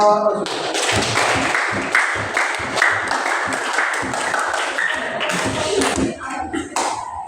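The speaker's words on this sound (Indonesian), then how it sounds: "Tepuk tangan untuk kelompok 7." Applause for a student group's presentation on a Quran verse in a classroom, with individually audible claps forming an uneven, lively patter and voices talking underneath.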